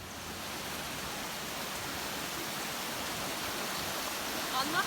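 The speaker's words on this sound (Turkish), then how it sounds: "Çağlayan dediği şelalesi tabiat parkındayız." Steady, full rushing roar of a waterfall in a nature park, constant and close for the whole stretch, with faint voices barely surfacing near the end.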